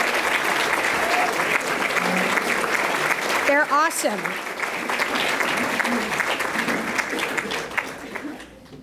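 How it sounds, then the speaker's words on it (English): A crowd at an Illinois state government event applauds the staff, sustained loud clapping throughout while someone speaks briefly over it partway through and a whistle cuts in. "I'd like you, the crowd, to please give them a round of applause"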